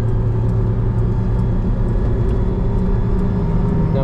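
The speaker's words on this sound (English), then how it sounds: "Two more cars behind us, for which we're going to let them pass." Engine noise from inside a Lada Niva lapping the Nürburgring while other cars come up to pass, a loud, steady low rumble and drone that fills the whole stretch.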